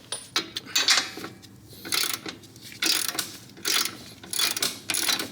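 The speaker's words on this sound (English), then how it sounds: "I'm going to start this with a breaker bar because it's really tough." A breaker bar works a tight 21 mm strut bolt on a Chevy Colorado, giving repeated close ratcheting clicks in short bursts separated by brief pauses, with no speech.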